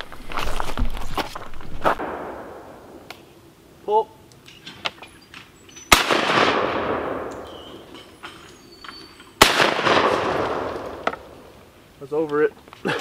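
Shotgun blasts at a sporting clays range, three loud sharp reports spaced several seconds apart, each followed by a decaying echo, with voices talking between shots.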